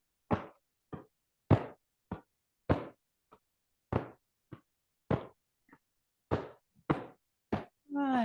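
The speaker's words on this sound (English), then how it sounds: "let's do a little knock over the leg gates, over the quad." Hands rhythmically knock on the legs and quads during a kidney-focused qigong exercise, about a dozen soft, evenly spaced thumps close by, with no talking over them.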